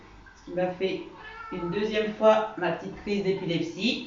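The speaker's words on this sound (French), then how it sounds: "mon chat qui va venir vous dire bonjour" A pet cat named Uranus meows repeatedly during an indoor stretching session, short tonal cries running under close French speech.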